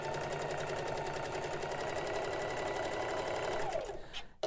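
A sewing machine runs steadily, stitching Christmas tablecloth fabric for an envelope pillow, a close, fast, even mechanical whir that slows and stops near the end.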